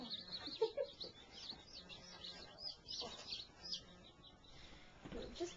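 Newly hatched baby chicks peep softly in a quiet setting, their faint, high chirps scattered across the clip and overlapping with low murmuring nearby.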